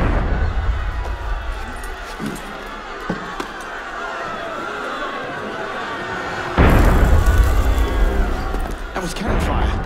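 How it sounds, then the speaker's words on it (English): Heavy cannon fire in the Assassin's Creed Unity video game, a loud booming blast erupting partway through after a stretch of scattered thuds and game ambience, with muffled voices underneath. "That was cannon fire."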